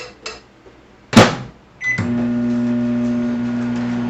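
Microwave oven toasting food: a few clicks and a door or latch knock, then a sharp clack before the steady loud hum of the oven starts and runs on alone.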